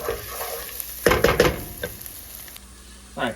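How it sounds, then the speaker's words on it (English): Garlic sizzles in a hot pan for homemade cheesy burger mac, a soft frying hiss broken by a few louder stirring scrapes and knocks of a utensil against the pan. "we added in the garlic, and now we're just gonna let it cook for about 30 seconds to a minute"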